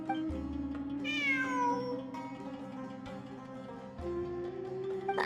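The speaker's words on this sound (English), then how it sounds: "I'm not hearing things. It really is a cat." A cat in a video game gives a single drawn-out meow that rises and falls over a steady, low musical drone during a ruins exploration event.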